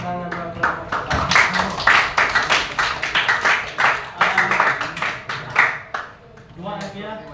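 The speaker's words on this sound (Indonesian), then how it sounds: "tepuk tangan buat kelompok 4" A classroom of students claps for group 4 during a practice exam at SMA Nusantara Indah Sintang, with scattered, uneven hand claps and talking mixed throughout.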